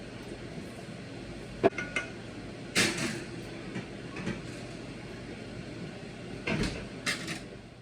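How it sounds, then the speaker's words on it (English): Oven door in a home kitchen opened and shut while breakfast-for-dinner is cooked, heard as a few soft clunks and a sharp metallic knock against steady background hiss, with a couple of light clinks near the end. "Now we're gonna plop this into the oven to keep warm"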